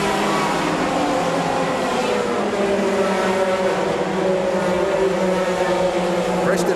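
Race cars, a BMW M3 GTR E46 among them, pull away at the start of a 2001 race at Donington Park, a loud, continuous blended engine roar that builds as the field accelerates.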